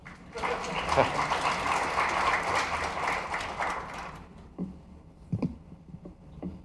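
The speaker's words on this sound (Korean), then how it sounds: "박수 한번 쳐주십시오." Applause from an audience at a Microsoft enterprise conference keynote, a dense burst of clapping lasting about four seconds before cutting off, followed by a few scattered thumps and faint movement noises.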